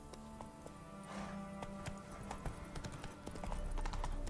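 Horse hooves clip-clopping steadily in Witcher 3, a busy rhythmic patter of hoofbeats that grows louder toward the end, with faint ambient sounds around them.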